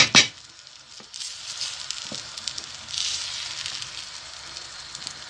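A spoon gently stirs fish pilau simmering in coconut milk in a pot: soft, careful scraping strokes over a constant bubbling sizzle, with a brief louder clatter at the start.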